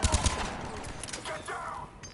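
Gunfire from a Mass Effect 3 combat encounter, a quick cluster of loud shots at the start followed by a busy, echoing battle rumble with scattered sci-fi weapon sounds.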